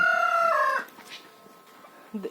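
A white rooster crows once, a loud drawn-out call lasting under a second, then fades into quiet background rustle with a brief faint sound at the end.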